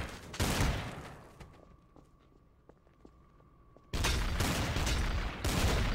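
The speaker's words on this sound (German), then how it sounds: "Schüsse." Gunfire in the video game Trouble in Terrorist Town: a loud burst of rapid shots at the start, a quieter stretch with scattered clicks and a steady tone, then another sustained loud barrage of firing.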